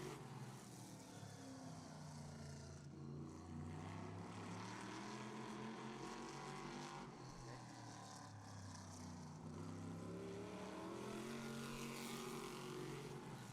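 Vinny Delaney's number 46 race car on a time-trial qualifying run at a heats event roars continuously and loudly, its engine pitch climbing and falling repeatedly through the laps.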